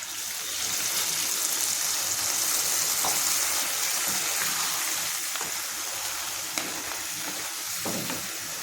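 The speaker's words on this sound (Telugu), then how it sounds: "ఈ గ్లాస్ తోటి నీళ్ళు పోసుకోవాలి" Water from a glass pours into a hot pan of crab curry, setting off a steady loud sizzle and gush that continues with faint stirring clinks.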